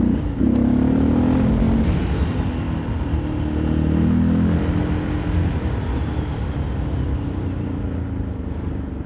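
A motorcycle ridden along a gravel country road makes a loud, steady engine drone with shifting revs, rumbling through tyre crunch and wind noise that holds for the whole stretch.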